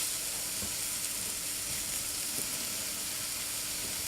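Vegetables for fried rice stir-frying in a pan on medium heat, a steady close sizzle with soft scrapes of stirring now and then.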